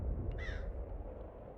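A crow caws once in the video game Easy Delivery Co., a short raspy call over a low ambient hum, fairly faint and alone.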